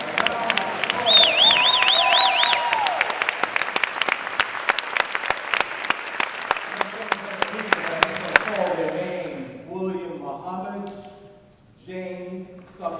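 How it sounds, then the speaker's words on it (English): Conference audience at a public education plenary applauding young people and educators, a crowd clapping with a few cheers under music for most of the stretch, fading out as a voice speaks near the end. "We need to give them a round of applause."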